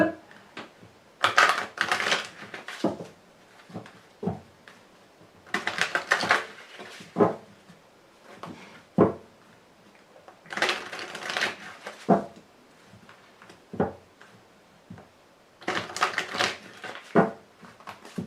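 A tarot card deck is gathered and shuffled by hand in four separate bursts of crisp riffling and flapping card noise, each lasting about a second, with quiet pauses between them and no voices.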